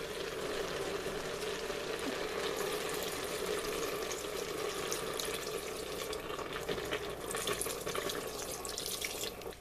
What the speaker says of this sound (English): Now we do need to add some more water.